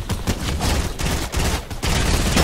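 Rapid bursts of gunfire in the Fortnite video game, several loud, closely spaced shots crackling in quick succession with short pauses between volleys.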